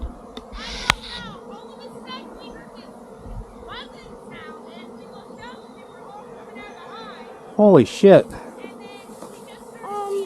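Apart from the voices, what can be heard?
swarm of honeybees buzzing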